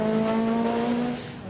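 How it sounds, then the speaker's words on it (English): A Martini-liveried mid-1980s turbocharged and supercharged rally car, the type Henri Toivonen drove, lifts off the throttle at the Goodwood Festival of Speed. Its forced-induction whistle and whine hold a steady, close pitch, then ease slightly as the sound fades. "You can hear the turbocharger and the supercharger whistling and whining away as he shuts the throttle"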